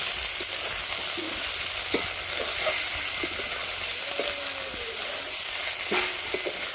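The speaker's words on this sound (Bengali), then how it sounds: "এই অল্প একটু তেল দিয়ে রান্না করছি" Food fries in a small amount of oil in a home kitchen, producing a steady, fairly loud hiss with occasional stirring clinks and scrapes, close by and without speech.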